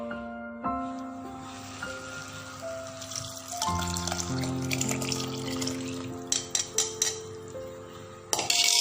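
Fresh milk from one whole coconut poured into vegetarian Thai curry gravy, a steady liquid pour heard close over a background of sustained tones, with a few light clinks toward the end.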